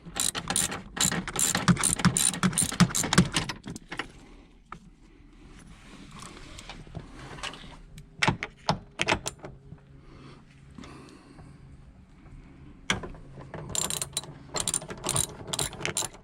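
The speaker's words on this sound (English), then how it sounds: "Now I can get into the 14mm bolt there" A ratchet wrench undoing a 14mm bolt on a 79 Series Landcruiser front seat belt, with bursts of rapid close clicking, pauses and shorter clicking runs near the end.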